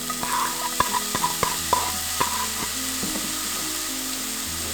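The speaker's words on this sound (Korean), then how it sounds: "양파를 살살 볶아주다가" Onions stir-fried in oil in a pan after green onion and scrambled eggs, with a steady broadband sizzle and repeated scraping, tapping strokes of a utensil against the pan, close and alone.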